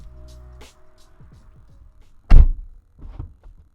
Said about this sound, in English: shutting the door on the car